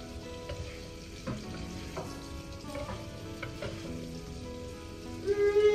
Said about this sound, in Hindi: बस मैं अभी जिमीकंद को फ्राई कर लेती हूँ